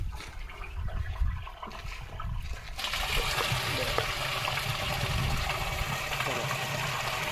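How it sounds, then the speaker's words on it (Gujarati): Water running from a pipe into a barrel on a farm fertilizer setup, starting as a low gurgle and then surging into a steady, loud hissing rush that continues to the end. "આ પાઇપ ખોલી એટલે સીધું પાણી ત્યાં જાય"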